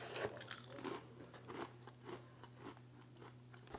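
Crisp crunching and chewing of a dill pickle snack up close, irregular bites repeating quietly with no talking.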